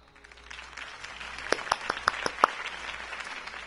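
Scattered applause rises from a small crowd at a political rally for Harvey Dent in Batman: The Telltale Series, a few sharp claps standing out over a soft murmur before fading.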